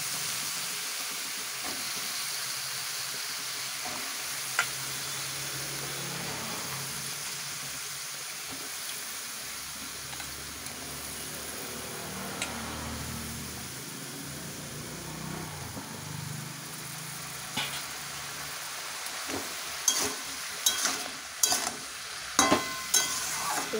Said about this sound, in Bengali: লাউ আলু সব মশলা একসাথে ভালো করে কষিয়ে